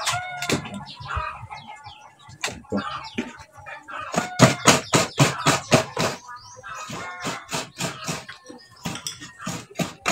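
Coconut flesh scraped on a hand grater before cooking ginataang toyo bulad, a run of sharp rhythmic rasping strokes close by, with chickens clucking and a rooster crowing in the background.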